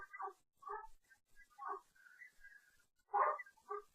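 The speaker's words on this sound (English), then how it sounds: "my dog is barking and I can't stop her" A dog barks and whimpers indoors in a string of short, faint yelps and higher whines, spaced irregularly with quiet gaps between them.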